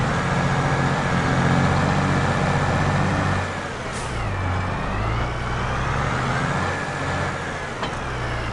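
A tractor in Farming Simulator 22 drives along, its loud, steady diesel engine drone shifting in pitch partway through as it changes speed, with no voices over it.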